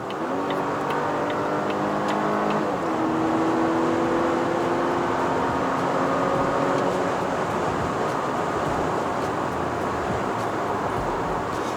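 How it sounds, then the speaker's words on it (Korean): A 2021 Volvo S90 hybrid with a gasoline turbo engine accelerates hard from highway speed, the engine note rising in pitch, then shifting and climbing again over steady road and wind noise. "고속으로 주행 중인데도 불구하고 급가속을 하면 터보 렉이 발생하네요"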